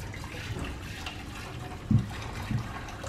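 Warm water pours into a pot of smoked pork, a steady soft liquid rush punctuated by two brief heavier splashes near the end.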